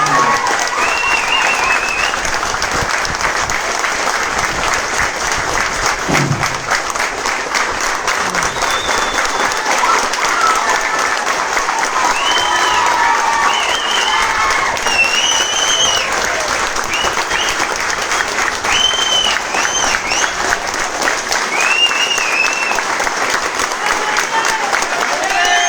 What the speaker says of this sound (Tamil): இந்த மாதிரி ஒரு கைத்தட்டல் வாங்கணும்